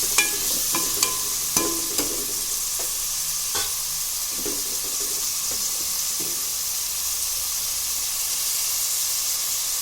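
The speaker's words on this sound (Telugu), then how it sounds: "బ్రౌన్ రంగు వచ్చేదాకా వేపాలండి ఉల్లిపాయ" Chopped onions sizzling and frying in a pan while being stirred until browned, a steady close hiss with a few sharp scrapes and clinks of the spoon early on, no voices.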